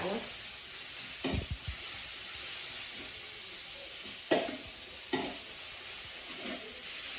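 Squid and holy basil stir-fry in a hot pan, with a steady sizzle under a few sharp scraping strokes of the spatula against the metal.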